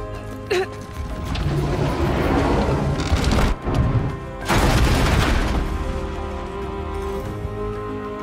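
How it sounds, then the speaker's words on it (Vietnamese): A heavy boulder shoved downhill in Horizon Zero Dawn crashes through a wall, giving a deep booming smash followed by several seconds of loud rumbling debris, with a second crashing burst midway. "Đẩy cục này xuống đùng phát vỡ được miếng này luôn."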